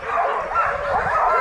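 Sled dogs at a kennel outside Seward, Alaska bark and yip excitedly in a continuous, close chorus of overlapping voices, with some whimpering, filling the short stretch.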